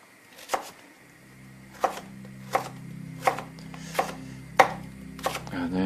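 A knife chopping vegetables on a cutting board, with seven sharp, evenly spaced thuds about a second apart, close and clear over a faint background hum.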